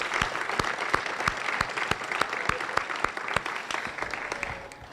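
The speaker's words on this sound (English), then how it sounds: "Let's give everybody a round of applause." Applause at a ribbon cutting and dedication ceremony for Willow Hall in Stockton, a crowd clapping steadily with a few sharp, close individual claps standing out, tapering slightly at the end.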